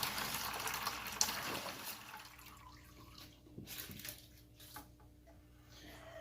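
Fish tank water drains through a siphon hose, starting as a bright rushing trickle that thins into sporadic gurgles and drips, quiet and close with no voices.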